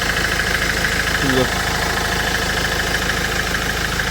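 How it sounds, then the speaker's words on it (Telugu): The engine of a used vehicle idles in a steady, even drone, heard close and continuous with a faint rattle on top. "ఇంకా ఇంజన్ సౌండ్ కూడా మీరు వినవచ్చు."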